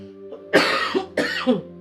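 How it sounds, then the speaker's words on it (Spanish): Two harsh coughs in a row, close and fairly loud, each a rough burst with a short gap between, over faint steady background hum. "tengo bastante tos"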